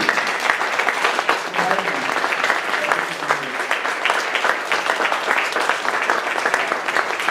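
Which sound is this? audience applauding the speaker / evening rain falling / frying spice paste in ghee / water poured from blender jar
audience applauding the speaker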